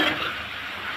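Chopped bottle gourd with salt and turmeric is stirred in a hot pan, giving a close, continuous rustling sizzle and scraping for a brief moment.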